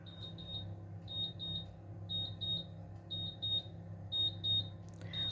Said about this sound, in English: Let's turn that beep beep off.